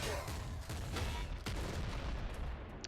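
Rapid Gatling Slugger gunfire from the video game Nuclear Throne, a dense, sustained stream of loud overlapping blasts with a few sharper shots standing out, continuous for the whole stretch.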